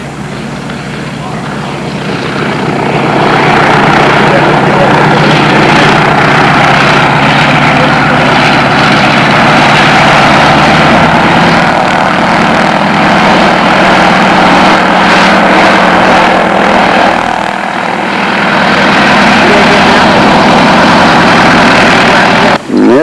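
An aircraft engine runs steadily and loudly at a WW2 military airfield, George Field in Illinois, a continuous droning roar that holds for the whole stretch with a slight dip near the end, and voices are mixed in underneath.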